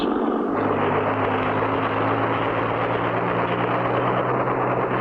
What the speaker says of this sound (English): We're flying! Just like a helicopter, Spinner.